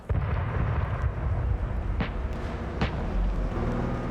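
A T-80A tank cannon fires in a US-versus-Russia armor battle video game: two sharp, heavy reports ring out over a continuous loud rumble of engine and battlefield noise.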